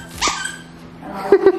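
A playful dog barks in a few short, loud, close yips indoors, alone with no talk.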